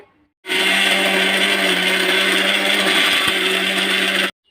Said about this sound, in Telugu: మళ్ళీ ఒకసారి మిక్సీ పడదాం వెల్లుల్లిపాయ వేసాను కదా